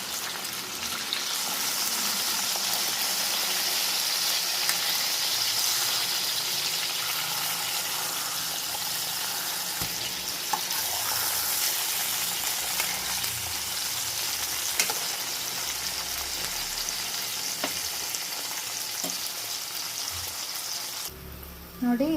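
Raw mango and tomato cook in a pan for a chutney, giving a steady, continuous sizzle and bubbling with occasional stirring scrapes, close and even throughout with no talking.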